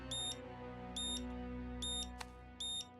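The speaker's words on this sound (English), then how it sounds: "That's the City Hall fire alarm." A cartoon City Hall fire alarm sounds as four evenly spaced bursts of shrill electronic beeping over a low hum, quiet and rhythmic.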